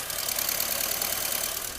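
A 2025 Honda Amaze engine idles as heard from inside the car, giving a steady, even hum with a light ticking texture throughout and no talking.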